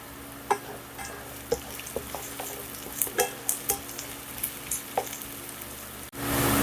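Garlic sizzles steadily in hot oil in a pan for shrimp and grits, a close continuous hiss broken by sharp clicks and scrapes from stirring, with no talking.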